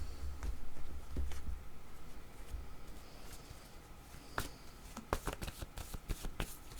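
Shuffling a deck of cards, a run of soft riffling and sliding with sharper snaps of cards near the end, close and fairly quiet, no voices.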